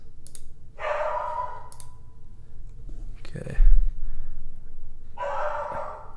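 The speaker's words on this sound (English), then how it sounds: "There goes my dog again, right on cue." A dog barks in the background during a live web design stream: two bursts of muffled barking, one early and one near the end, with a person speaking softly at times and a thump in the middle.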